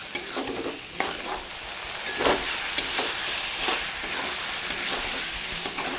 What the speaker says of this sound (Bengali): তো এবার মাংসটা ভালো করে আমি কষে নেব